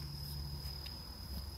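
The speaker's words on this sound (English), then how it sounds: "No, there's a cricket somewhere in there." A cricket in a garden by a rose bush gives a steady, thin, high trill, faint and continuous, with no voices.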